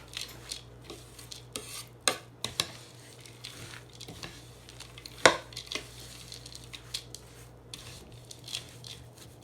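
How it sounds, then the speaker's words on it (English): Vegan nut and fruit granola mixture stirred in a bowl, a spoon scraping and clinking against the sides in irregular taps, one sharp knock midway, close and fairly quiet with no talking. "I just want to stir it up thoroughly."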